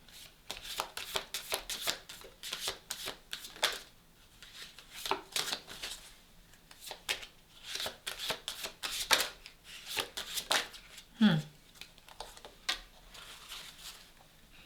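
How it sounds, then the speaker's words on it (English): Repeated riffling and slapping of oversized cards being shuffled by hand, a series of papery bursts at close range, uneven in rhythm. "I'm glad these cards are so big so you can see the images, but small hands, hard to shuffle."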